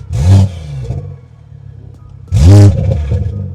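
BMW F31 wagon with a swapped-in B58 engine, revved twice in short loud bursts with a quieter idle between, close by and with no voices.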